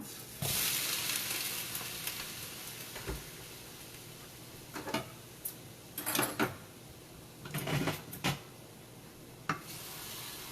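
Shrimp sizzle in a little olive oil in a pan, with a steady hiss that fades slowly, broken by sharper crackles and pops near the middle and end, close and fairly soft.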